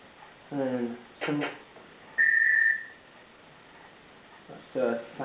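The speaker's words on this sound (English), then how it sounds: "that's a sample whistle by the sound of it" A sampled whistle voice on a 1992 Casio TA-10 stereo cassette keyboard sounds one bright, sustained note for under a second, set between short bursts of someone talking nearby.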